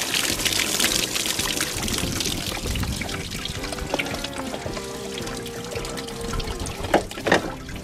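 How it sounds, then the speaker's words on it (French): Water pouring out of a Peugeot Expert van engine during a timing belt and water pump service, a steady close splashing stream with a few sharp knocks near the end. "Oh, c'est que de l'eau!"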